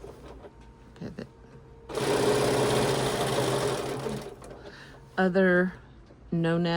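Sewing machine stitching a stuffed bear, a close, steady rapid whir running about two seconds, followed by quieter handling and a person speaking briefly.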